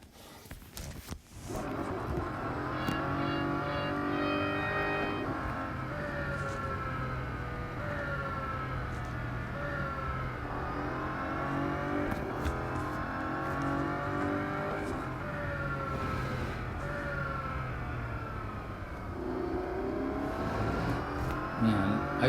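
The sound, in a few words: car engine accelerating in video game Real Racing 3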